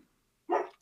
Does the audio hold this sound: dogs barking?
yes